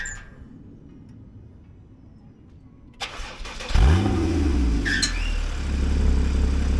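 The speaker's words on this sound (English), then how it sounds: "you'll hear these noises when starting and turning off the engine" A Porsche Boxster/Cayman 981 engine cranks and fires up, settling into a loud, steady idle with a rising sweep and a brief high whine from the exhaust baffle, after a quiet lead-in and a sharp click.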